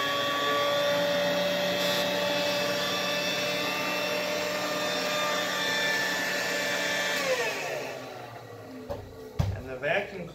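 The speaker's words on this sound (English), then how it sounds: "And the vacuum cleaner, this vacuum cleaner in particular, turns the power nozzle on low and on high." A 1960s Lady Kenmore vacuum cleaner with a power nozzle runs steadily with a whining hum, then winds down near the end, leaving a few clunks and knocks.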